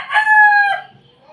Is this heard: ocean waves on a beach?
no